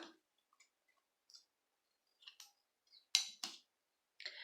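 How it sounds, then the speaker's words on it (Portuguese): Sharp little scissor snips cutting yarn while finishing an amigurumi doll, a few quiet, close clicks spaced apart in a near-silent room. "E agora eu vou cortar."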